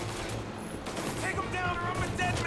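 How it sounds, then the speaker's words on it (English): A Tommy Gun fires in Mafia: Definitive Edition, a rapid rattling burst beneath a busy game soundscape, with someone talking over the gunfire. "Pouca precisão essa Tommy Gun, hein?"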